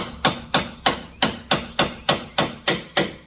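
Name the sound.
hammer striking screwdriver wedge on BMW suspension knuckle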